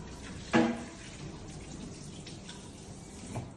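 Food is rinsed under a running kitchen tap, a steady close stream of water with one sharper splash near the start and a smaller one near the end.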